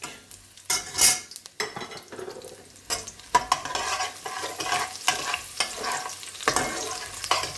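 Garlic fries in hot oil with browned methi seeds for a rohu fish curry, bursts of sizzling and stirring scrapes coming in uneven waves, close and fairly loud.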